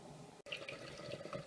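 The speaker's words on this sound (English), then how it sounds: "the water started coming through pretty quickly" Water running out of a DeLonghi combination espresso machine during a first run without coffee, a brief click and then a continuous close trickle and splash of liquid.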